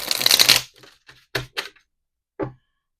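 Tarot cards are shuffled in one quick riffling burst, followed by a few separate soft card taps and snaps with silence between them, close and clear.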